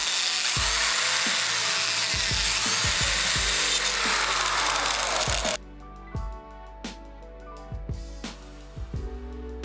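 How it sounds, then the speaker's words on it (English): Power drill boring pilot holes for COB holders in the aluminum housing of a Growblu 120x3w LED grow light, a steady loud whine for about five seconds, then a series of short drill bursts and clicks. "it's time to drill out the pilot holes for the COB holders."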